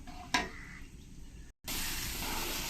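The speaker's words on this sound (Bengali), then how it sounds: "এই যে ছোলা ডালটা আমি পেস্ট করে রেখেছি আমি এখন ফ্রাই করে নেব" Chana dal paste sizzles in hot mustard oil with spices, a steady close hiss with a brief clatter of stirring near the start and a short gap before the frying resumes louder.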